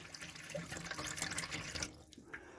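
Hot water gushes steadily from a caravan tap, spluttering as trapped air purges from the line after winter storage, then cuts off abruptly near the end.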